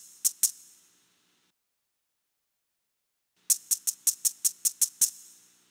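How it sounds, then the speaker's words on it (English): Maracas shaken in a children's music video game: two crisp rattles, a pause of silence, then a quick even run of about nine sharp shakes, clear and alone. "You found the maracas."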